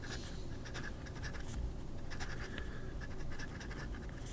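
A scratchy Ongdian fountain pen nib dragging across paper while writing, making a faint, continuous rasp broken by short bursts of scratching, heard alone and close.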